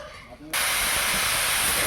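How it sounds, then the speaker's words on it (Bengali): Fish pieces dropped into a pot of boiling sour curry set off a sudden loud, steady sizzling hiss that starts partway through and holds at full strength to the end. "টকটা ফুটে গেছে, এবার মাছগুলো দিয়ে দিলাম একে একে করে।"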